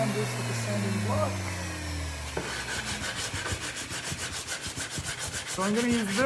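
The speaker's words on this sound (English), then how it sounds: "I'm going to sand this with a sanding block" A sanding block rubs back and forth over wood in a steady scratchy rhythm during a roof framing build for a truck camper tiny house, close and moderately loud, with some background noise earlier on.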